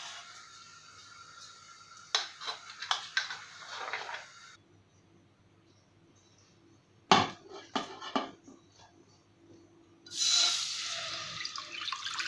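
Water splashes into a cooking pot before lentils go in for puran poli, arriving in three separate bursts of running and pouring with clatters and quiet gaps between them.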